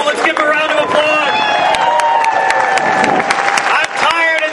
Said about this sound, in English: Folks, Representative Peter Palumbo, let's give him a round of applause